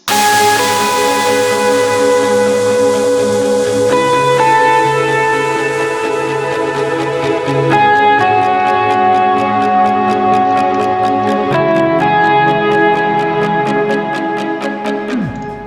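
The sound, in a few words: synth plucker melody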